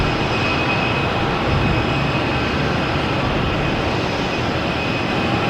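A jet airplane departs from Boston Logan Airport with a loud, steady roar that fills the whole stretch without pause, dense broadband engine rumble and a thin high whine on top, no voices.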